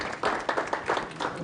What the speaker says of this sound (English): round of applause for you guys for living in the middle of it